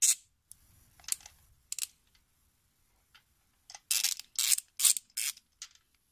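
A ratchet with a 5/8 socket loosening a spark plug on a BMW six-cylinder engine gives scattered clicks, then a quick run of loud, close ratcheting bursts near the end.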